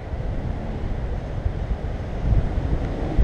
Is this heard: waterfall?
yes